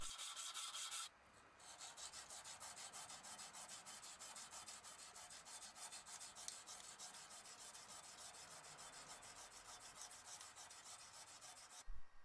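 Steady hand rubbing and polishing of a metal dagger blade, a continuous rasping scrape with a fast back-and-forth rhythm running close and even for most of the stretch, with no talking.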